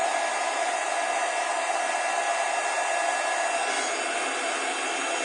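A hot heat gun blows steadily, heating embossing powder on a stamped silhouette card for a white outline; a loud, even whooshing roar runs unbroken and close for the whole stretch.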